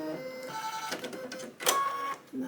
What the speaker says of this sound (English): And that was the auto threader on that.